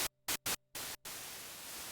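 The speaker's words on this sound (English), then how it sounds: "So you get this pure white noise signal." Pure white noise from the noise source of a Behringer K2 synthesizer, starting in several short bursts separated by silence, then settling into a steady, even hiss.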